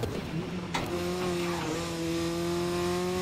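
Race car engine in GRID 2019 revving high and holding near redline, a steady sustained whine with rising harmonics and a brief gear shift near the start, loud and close with no talk.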